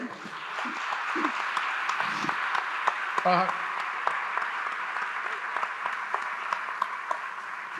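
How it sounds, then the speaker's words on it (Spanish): A festival audience at a Hay Festival 2024 conversation event claps continuously and moderately loud, a dense patter of many hands filling the room throughout. "un aplauso para tu madre"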